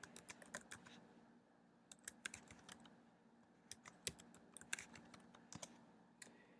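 Keys clatter on a computer keyboard in quick uneven bursts with short pauses, close and fairly quiet, with no talking.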